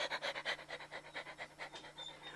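A man mimics a dog panting with quick, rhythmic breathy huffs, about five per second, steady and fairly soft.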